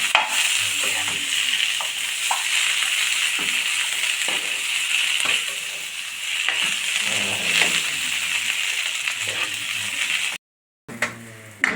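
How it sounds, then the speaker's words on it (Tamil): Vegetable cutlet mixture is stirred and mixed by hand in a bowl, giving close, continuous wet squelching and scraping with irregular soft knocks, then a short silent gap before the mixing resumes. "இது நல்லா நல்லா கலந்துக்கலாம்"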